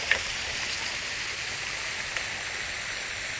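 Water streams from a shower in a poolside shower area at a resort with swimming pools and slides. The spray is a steady, moderate hiss, and a couple of faint knocks sound briefly.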